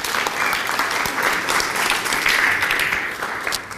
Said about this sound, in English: How about another round of applause for John?